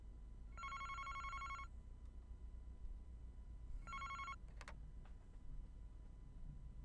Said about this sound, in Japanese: 宇津木探偵事務所に恐ろしい事件の幕開けを告げる電話のベルが鳴り響いた。